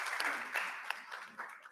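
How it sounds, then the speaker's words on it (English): Audience at an athletes' forum in Bangkok clapping steadily for a short spell, a dense patter of many hands at moderate distance with a faint voice underneath. "Let's give them a clap."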